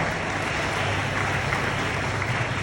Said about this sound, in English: I need a big round of applause for that young boy